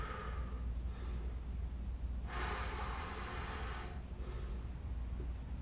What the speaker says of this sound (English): So really focus on that breathing.